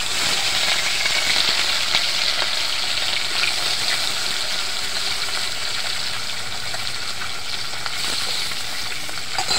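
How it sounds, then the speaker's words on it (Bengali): Katla fish pieces fry in salted oil in a wok, giving a loud, steady, dense sizzle with crackling spatters that runs unbroken and close throughout. "মাছগুলো আমি ভেজে নেব।"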